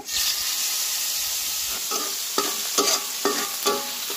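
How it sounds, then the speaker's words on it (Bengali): Fish frying in hot oil for a Bengali curry with potato, eggplant and lentil dumplings, a loud continuous hiss with a few short scraping stirs near the end and no talk. "বাকি মাছগুলো একইভাবে ভেজে নিব।"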